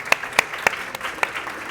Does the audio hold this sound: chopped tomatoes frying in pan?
no